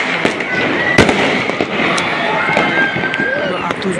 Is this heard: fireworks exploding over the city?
yes